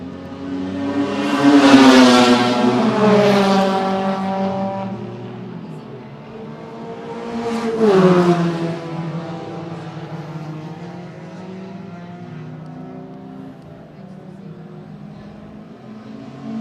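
Lotus Challenge race cars at a historic circuit, engines screaming past in two loud rising-and-falling passes, then a fainter drone of cars further around the track.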